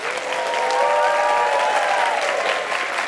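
Loud, sustained applause from an indoor audience greets a band on stage, a thick continuous roar of clapping with a few cheers rising through it and no talking.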